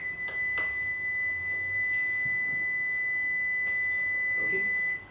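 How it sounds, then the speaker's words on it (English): A fixed 2 kilohertz sine tone holds perfectly steady for about five seconds, alone over faint room hiss and a few soft clicks, then cuts off. "This is a fixed 2 kilohertz signal in the rest frame of one observer."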